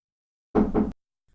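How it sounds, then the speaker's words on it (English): Two quick, close knocks on a cottage's wooden door, dull and solid, in a short double rap followed by silence. "Applejack knocked on the door of Fluttershy's cottage twice"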